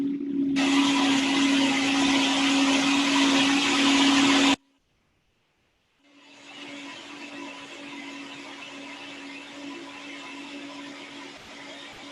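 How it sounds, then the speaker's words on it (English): A strong home blender purees cooked celery root, whirring loudly and steadily for several seconds, cutting out briefly, then starting again at a slightly lower, sustained level with no talking. "Fortunately, my mom has a pretty good blender here, so a nice puree."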